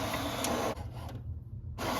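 An HP inkjet printer, printing blank pages with no ink, churns with ratcheting gear and carriage noise that briefly drops off before resuming, heard close up with no talking.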